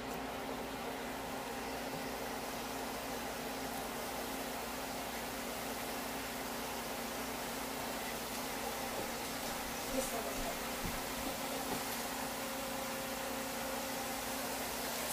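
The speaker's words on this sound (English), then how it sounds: "Sizzle." Food sizzles in hot frying oil, a faint, even hiss with light crackles that runs continuously at a low level.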